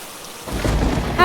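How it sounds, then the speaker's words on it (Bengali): Heavy rain pours down with a burst of thunder on a stormy afternoon in the countryside of a Bengali cartoon, a loud, close roar that swells briefly. "উফ, আবারও জোরে বৃষ্টি নামলো।"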